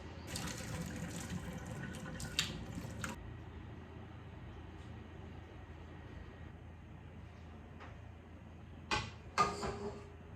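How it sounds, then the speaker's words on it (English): Cooked udon noodles are drained through a sieve in a kitchen. Water pours and splashes steadily, with a few sharp clatters at the start and again near the end, and no voices. "just sieve them out, and then we're gonna put them in the bowls"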